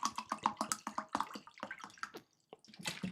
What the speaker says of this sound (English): Just gonna put the water, and that will be the cocktail for today